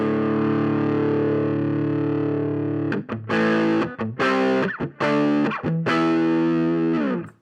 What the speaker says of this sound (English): it's quite a nice overdrive sound there